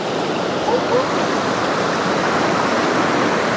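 River water rushes steadily around a river-powered rotisserie roasting whole chicken, a close, even broadband wash with no breaks for the whole stretch.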